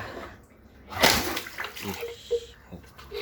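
Liquid gushing and overflowing from a plastic bottle being capped, holding a homemade eggshell mix for watering plants, with a loud splashing burst followed by softer trickles and sloshes, and someone talking over it.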